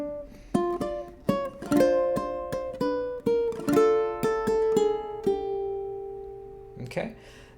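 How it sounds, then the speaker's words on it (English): Ukulele plucking the first three bars of the Habanera from Carmen, a string of crisp plucked notes and strums in a lilting rhythm, close and clear, ringing alone. "so now our first 3 bars put together sound like this."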